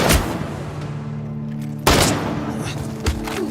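Gunfire in an action film fight scene: rapid overlapping shots and booms over a tense musical drone, with a sharper burst partway through and a lone thud near the end.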